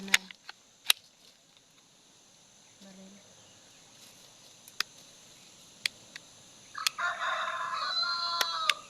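A rooster crows in the distance in the latter part, with insects buzzing steadily and a few sharp clicks and taps in an otherwise quiet outdoor scene.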